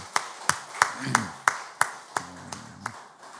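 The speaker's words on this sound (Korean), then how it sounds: "한번 축복하는 박수를 보내주시면 고맙겠습니다." Clapping as a blessing during an early-morning special prayer service in church: about nine sharp, evenly spaced claps, fairly faint, with a brief low hum between some of them.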